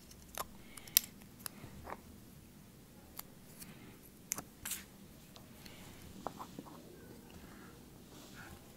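Scissors snipping small hardware-store pieces for a centerpiece, scattered sharp faint clicks and cuts against a quiet background.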